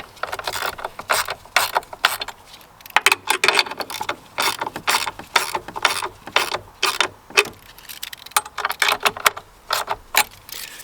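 A ratchet wrench tightens the battery hold-down and terminals on an adventure truck being fitted with AGM batteries, making loud, close bursts of quick clicking in repeated strokes, with short gaps between them.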